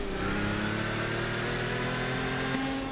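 A racing car engine in Forza Motorsport 6, heard from outside the car: a loud, steady, high-pitched drone with sustained revs and no talk.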